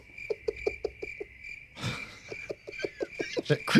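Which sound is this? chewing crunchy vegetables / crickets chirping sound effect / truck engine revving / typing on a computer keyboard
crickets chirping sound effect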